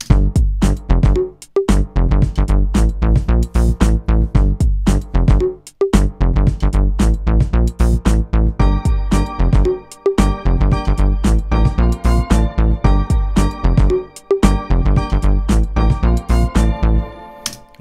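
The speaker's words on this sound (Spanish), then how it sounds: "Acá tenemos una idea muy básica que tiene batería, bajo y un instrumento armónico." A basic looping track of drums, bass and one harmonic instrument, with steady punchy beats and a repeating bass and chord pattern, loud and alone, with brief drops where the loop restarts.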